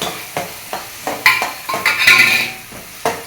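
Ginger garlic paste and pepper sauté in a pan, loud close scraping strokes of a spoon repeating in a quick rhythm over a light sizzle, with one longer metallic scrape in the middle and no talking.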